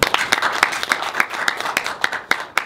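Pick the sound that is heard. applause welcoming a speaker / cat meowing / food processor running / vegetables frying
applause welcoming a speaker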